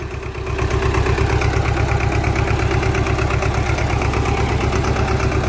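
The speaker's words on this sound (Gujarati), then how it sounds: "આ ધમો જાય ટ્રેક્ટર લઈને હાલે એકલું એની રીતે." A farm tractor engine runs steadily in a field, its close, loud diesel idle chugging with an even rapid pulse from start to finish and no talk over it.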